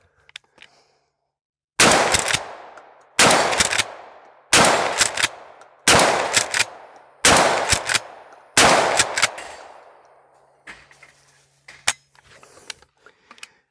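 A Mossberg 500 pump shotgun fires at a steel plate rack: six loud, close blasts spaced about evenly, each with a long ringing decay, followed by a few quieter mechanical clicks and clanks.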